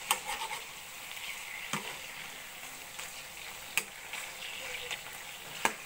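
Pork barbecue sizzling and frying in a home kitchen, a steady soft crackle with occasional sharp ticks and scrapes, fairly quiet and without talk.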